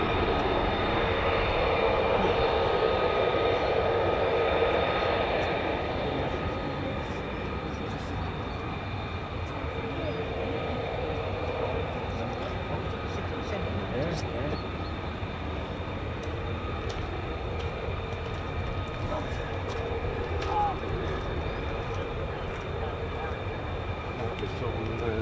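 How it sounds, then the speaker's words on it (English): C-17 military transport aircraft coming in near the 48th Fighter Wing base at RAF Lakenheath, a steady broad jet roar throughout, louder during the first few seconds and then easing to a sustained distant rumble. "C-17s coming in there."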